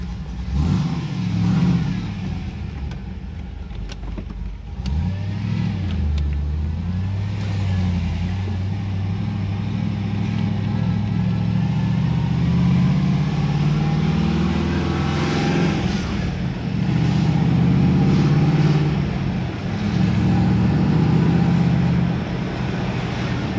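A VY Commodore ute on a test drive after a rear wheel bearing replacement, its engine droning steadily from inside the cabin and rising and falling through gear changes, with steady road noise and no talking.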